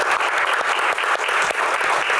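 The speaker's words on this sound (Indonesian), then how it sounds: "Terima kasih, tepuk tangan untuk box kali ini." A studio audience at an Indonesian Q&A talk show claps steadily, a dense, even burst of applause close and loud that fills the whole short stretch without any voices over it.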